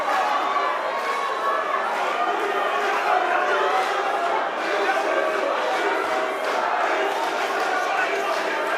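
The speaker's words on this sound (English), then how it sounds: "There's a chant in the crowd." A large boxing crowd chants rhythmically in a dense, continuous roar, loud and sustained across the arena with rolling surges and no clear pauses.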